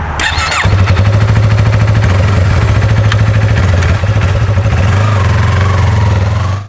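Yamaha R3 motorcycle engine running loud and close, a steady throbbing idle with a fast even pulse that barely changes across the whole stretch, no voices over it.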